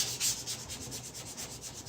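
Hand sanding across a wooden farm-style dining table top, a steady close rubbing scrape repeating in quick even strokes, alone without talk.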